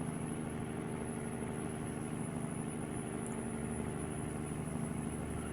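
A truck engine drones at a steady, moderate level in American Truck Simulator, a continuous low hum with a faint high whine and no distinct rev changes.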